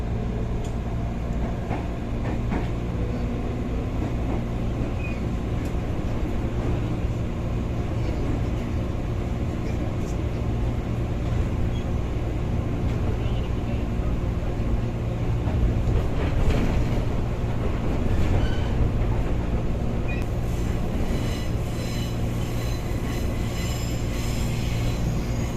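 Commuter train leaving Pasar Senen station toward Kampung Bandan, heard from inside as a continuous loud rumble of wheels and motors with rail squeal rising toward the end.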